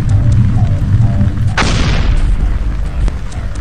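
Gunfire in the Quake 3 Arena video game: a loud, sharp blast at about 1.6 seconds over a steady low rumble of continuous game sound, with a few smaller bursts after it.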